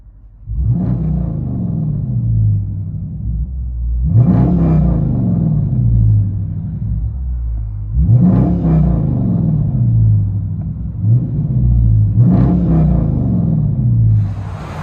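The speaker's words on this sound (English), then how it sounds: "Dodge Charger 3-inch system, straight pipe." Deep, rumbling 5.7L HEMI V8 of a 2019 Dodge Charger R/T with 3-inch straight-pipe dual exhaust, heard from inside the car, swelling in repeated revs roughly every four seconds with a throaty crackle on each.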